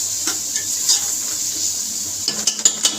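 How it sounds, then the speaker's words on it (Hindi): Spiced potato and egg curry with tomato, salt, red chilli and turmeric sizzles steadily in a pan while a spoon stirs and scrapes, the clinks growing sharper and more frequent toward the end. "अब हमें इसको अच्छे से भून लेंगे ताकि ये टमाटर मेल्ट हो जाए"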